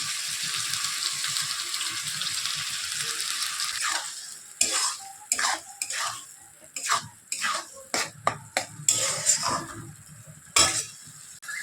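Ginger garlic paste and tomato paste frying in a pan, a constant sizzle at first, then broken by a rapid series of sharp spoon scrapes and clatters against the pan.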